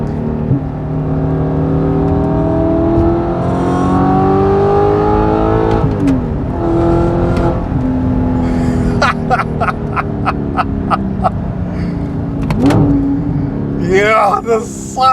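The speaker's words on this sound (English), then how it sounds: "I just want you to hear the exhaust quickly." A straight-piped Audi R8 V8 revs up and down through gear changes, loud throaty exhaust roaring and crackling, with a sharp burst of pops near the end.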